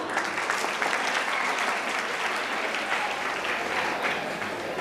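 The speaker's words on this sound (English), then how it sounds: "Can we have a round of applause for Trishla?" An audience at a college event applauds, giving a sustained, even round of clapping that fills the room at a steady level from start to finish, with no speech on top.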